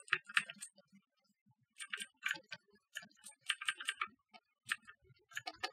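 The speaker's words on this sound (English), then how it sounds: "my mechanical keyboard, probably hear it clicking like crazy" A mechanical computer keyboard clicks during a live PC game session, typed in uneven bursts of crisp, rapid keystrokes with short gaps, fairly close but not loud.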